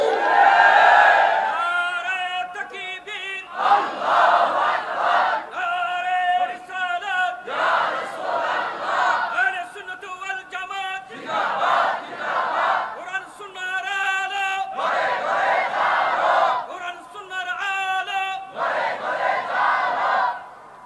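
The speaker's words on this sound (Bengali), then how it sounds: "নারায়ে রিসালাতের এই স্লোগান, নারায়ে গাউসিয়ার এই স্লোগান" A large crowd at an outdoor religious sermon gathering shouting chanted slogans together in repeated loud, rhythmic bursts with short pauses between them, continuing all the way through.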